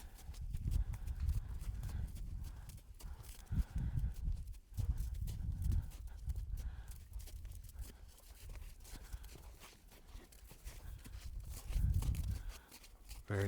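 A horse's hooves clop and shuffle on the ground in repeated uneven steps during a training session, close and clear, with someone speaking now and then between the footfalls.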